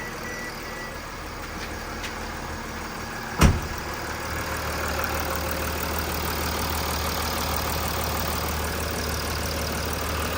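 A Mercedes W221 S350 Bluetec OM642 diesel idles with its engine cover off after fresh oil: a steady, even close rumble with fine clatter that runs throughout, broken by a single sharp knock early on.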